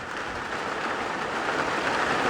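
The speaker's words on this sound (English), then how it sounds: "Well, the rain is here, and it is some big, big, big drops." Heavy rain with big drops falling after a hurricane storm, a steady dense patter close by with no talking.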